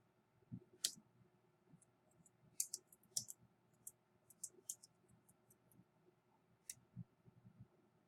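Keyboard typing on a computer, a quiet series of light, irregular clicks and taps close by, with a few sharper clustered clacks spread over several seconds against a low steady room hum.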